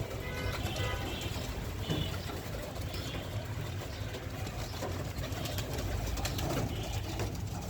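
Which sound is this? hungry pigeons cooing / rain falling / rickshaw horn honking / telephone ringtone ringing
hungry pigeons cooing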